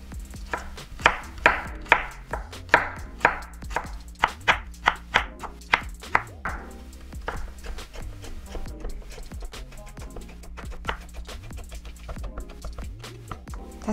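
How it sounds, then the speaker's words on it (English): Carrots are chopped on a cutting board with a knife, a run of crisp, close thuds at a quick regular pace that thins out into scattered cuts and light clatter. "Actually, I hate cutting carrots."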